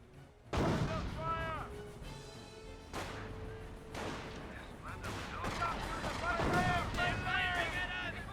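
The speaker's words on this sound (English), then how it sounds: "One landmine detonation there" A landmine blast in the Company of Heroes real-time strategy game, with a sharp explosive onset followed by further booms and gunfire echoes amid battle noise, with no talking.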